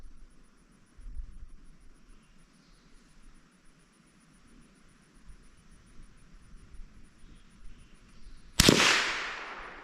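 A single loud, close rifle shot cracks out near the end while sighting in a gun outdoors, following a stretch of quiet low rumble, and its echo trails off over the last second.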